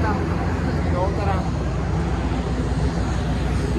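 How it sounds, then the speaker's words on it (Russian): A Twin Otter small propeller plane in flight gives a loud, steady cabin drone and roar that fills the whole stretch without break. "В Катманду вылетаем вот таким небольшим самолетом Twin Otter."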